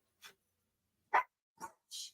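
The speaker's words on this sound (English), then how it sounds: "Even the little puppy dogs in the background that want to be known and want to be heard" Small puppies yip and bark faintly in the background, four short separate sounds spaced irregularly over two seconds with quiet gaps between them.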